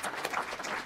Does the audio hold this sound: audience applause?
yes